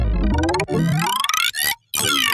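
Dubstep synth patch run through bandpass filters whose formant is swept, shifting the whole set of bands in pitch; loud, solo, in a couple of phrases with a brief silence near the end.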